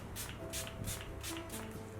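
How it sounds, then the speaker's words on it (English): Makeup setting spray hisses onto a face in five or six short, soft bursts at an even rhythm, quiet and close. "So I'm gonna use a bit of setting spray just to fix this on"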